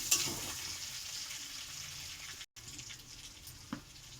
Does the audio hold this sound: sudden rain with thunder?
no